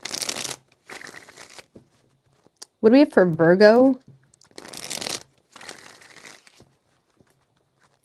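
Tarot cards being shuffled by hand in a few short bursts of riffling, separated by pauses, with a person talking in between.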